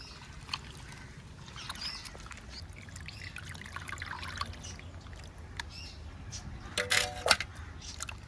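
Water is poured over raw squid in a bowl to rinse it clean, making a steady close trickle and splash with occasional louder sloshes near the end.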